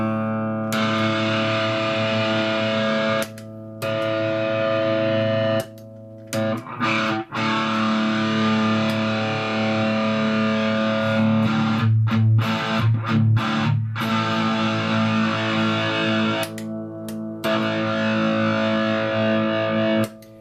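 Heavily distorted electric guitar chords through a RAT distortion pedal ring out loud and sustained, with a few brief breaks between strummed passages.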